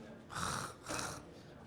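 A person imitates snoring with two raspy, drawn-out breaths close to the microphone, likening the sound to a knife running through tuna bones.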